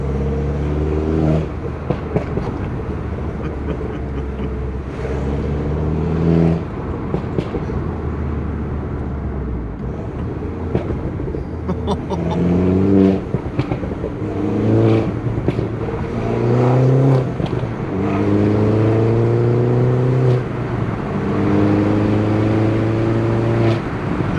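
A Mini Cooper R56 JCW with a decat exhaust revs over and over at close range, each blip rising and falling on a loud, steady engine drone, with scattered crackles breaking through between revs.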